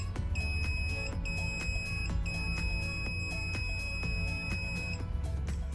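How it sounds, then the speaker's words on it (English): A Fnirsi DMT 99 digital multimeter on a continuity test gives repeated short, high electronic beeps in an irregular pattern over a steady low background. "For continuity testing, the DMT 99 gives a clear, audible beep and visual indication"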